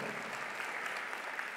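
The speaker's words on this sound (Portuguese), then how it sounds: "todos vocês que estão em pé aplaudindo" A standing audience applauds at a year-end tribute concert, a dense, steady wash of clapping with no break, close and full, no voices clearly heard.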